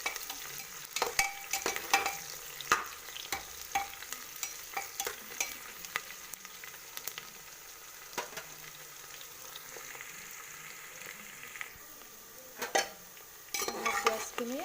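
Onions fry in a pan and are stirred until brown, a soft steady sizzle under repeated close scrapes and clinks of a spoon against the pan, with no talking.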